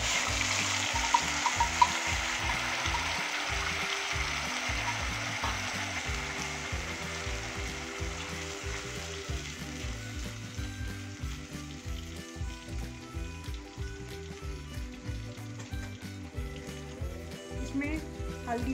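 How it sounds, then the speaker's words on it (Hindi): Onion and garlic paste frying in hot oil in a kadai while cooking masala bhindi, a steady close hiss and sizzle with occasional stirring scrapes, continuing throughout under faint background music. "अब इसमें प्याज लहसुन का पेस्ट डालेंगे।"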